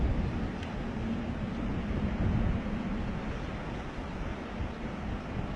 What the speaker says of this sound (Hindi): ऊंची पहाड़ी से गिरते कई झरने एक अलग और अद्भुत नजारा बना रहे थे।